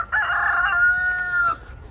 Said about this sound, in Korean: 우리 닭들이 기다리고 있네요.